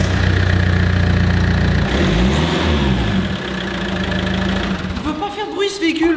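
A Fiat Multipla engine running with no exhaust fitted, loud and raw with a harsh rumbling drone that swells and dips as it revs, and voices talk over it near the end.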